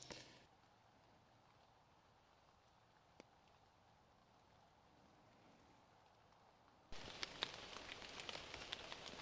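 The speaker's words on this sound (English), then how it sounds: "it rained all night last night. Nothing crazy heavy, but just steady." Steady overnight rain falls at a faint, even hiss, growing louder and denser near the end with scattered drip-like ticks; no voices.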